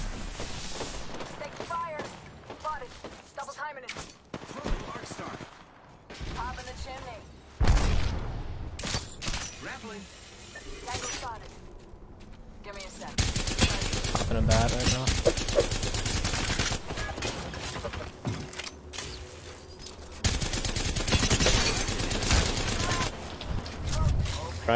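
Rapid bursts of gunfire in a shooter video game, loud automatic volleys and booms coming in dense clusters over busy game sounds, with a player talking at times.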